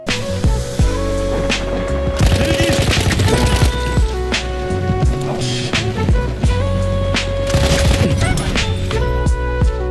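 Hellriegel submachine gun in Battlefield 1 fires in rapid automatic bursts, loud and close, with several pauses between strings of shots and no voices.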